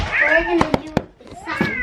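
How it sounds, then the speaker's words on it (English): A cat meows with rising and falling tones under a child's speech, with a few sharp knocks in between and another drawn-out meow near the end. "we have a kitty cat too"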